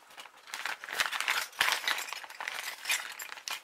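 Continuous close crinkling of a plastic bag being handled, with small clicks and rustles throughout and no talking.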